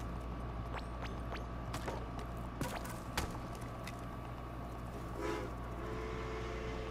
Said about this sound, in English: Oh, dramatic train scene.